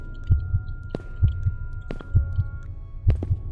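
Heartbeat sound effect in the video game Escape the Backrooms, heard after leaving water: a steady, low, thudding lub-dub pulse repeating about every second, loud and close with a faint hum underneath.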